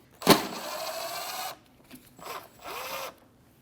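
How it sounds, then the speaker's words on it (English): A Phillips screw is backed out of the bumper of a 2012–2016 Honda CR-V with a power driver. A sharp click is followed by a steady whirring run, then two shorter bursts of motor whine. "Remove that Phillips screw."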